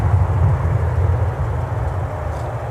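Delta MD-95 airliner at Minneapolis–St. Paul airport, a steady loud low rumble of jet engines that holds throughout with no break, no voices over it.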